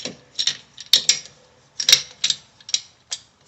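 A brake caliper piston compressor tool's knob is turned against an old brake pad, giving a string of close, sharp ratcheting clicks in short irregular bursts, alone and with no talk.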